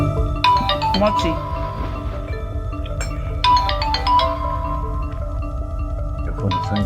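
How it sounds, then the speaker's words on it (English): A mobile phone ringtone plays a repeating melodic pattern in loud bursts over a steady low hum, with a voice speaking briefly under it. "Your phone is ringing."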